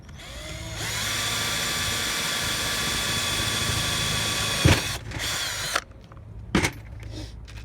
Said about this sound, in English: we're going to drill one out first.